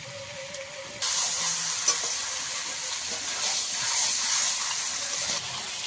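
Country chicken sautéing in a ground spice masala, a faint hiss that jumps into a loud, steady sizzle with a single clink of a utensil.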